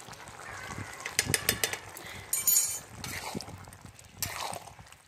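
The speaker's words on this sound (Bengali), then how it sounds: "এবার এটাকে নেড়েচেড়ে আমি নামিয়ে নেবো।" Spatula stirring jackfruit and prawn curry with ghee in a pan gives soft, irregular scraping and light metallic clinks, fairly quiet and close, with a few sharper taps and no talk.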